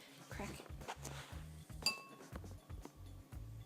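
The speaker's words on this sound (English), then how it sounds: "so we're going to crack it into our bowl" Japanese eggs cracked into a bowl bring a series of close, light clinks and taps of shell and utensils against glass or crockery, with one sharper knock, all under a low, steady voice.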